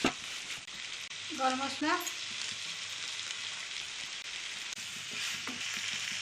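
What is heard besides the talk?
potatoes frying in a pan for dry aloo dum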